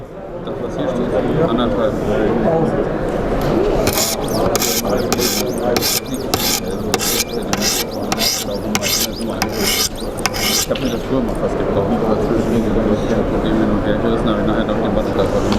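A knife blade is honed on a Wicked Edge guided sharpener, the stones rasping against steel in steady back-and-forth strokes that run close and loud throughout, with talk over parts of it.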